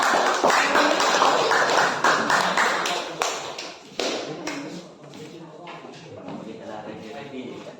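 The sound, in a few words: class applause for group 2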